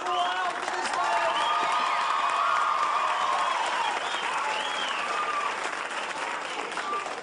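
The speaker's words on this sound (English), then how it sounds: "And the crowd are on their feet. They're going wild for this man." A large beach crowd on its feet cheering and applauding a winner, a sustained roar of clapping and shouting at steady loudness.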